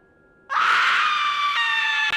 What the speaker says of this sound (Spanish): Ese fue el grito que escuchó mi padre,